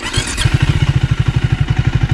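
A Triumph Thruxton 400 motorcycle's 400cc single-cylinder engine idles or revs gently, a loud, close exhaust note thumping in a fast, even pulsing rhythm.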